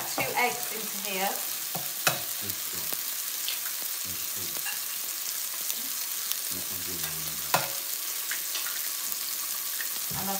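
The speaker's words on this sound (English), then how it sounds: "So I'm just whisking that together." Two eggs and cheese are whisked in a bowl with a small whisk, making quick, rhythmic clicking and tapping strokes against the bowl, fairly close and steady, with a few louder knocks and no talking.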